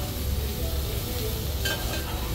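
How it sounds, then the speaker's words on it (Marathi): Steamed cauliflower and cut potatoes being stirred into fried spices in a pan over a high flame: steady dense sizzling with scraping stir noises throughout, close and fairly loud, no talking. "आता हे सगळं साहित्य मी मिक्स करून घेते."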